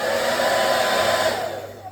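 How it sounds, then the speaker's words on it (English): A hotel room hair dryer blows with a steady, loud whooshing roar that holds for most of two seconds before starting to wind down. "Hairdryer."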